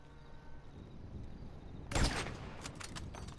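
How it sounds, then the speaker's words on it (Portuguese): Quiet GTA 5 game background, then a sharp burst of gunfire with a couple of following shots, fairly loud against the low ambience. "errei dois tiros"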